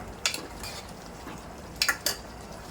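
A metal spoon scrapes and clinks against a pan as fried chicken lollipops are stirred into sauce over a high gas flame, a few sharp clatters over a soft sizzle.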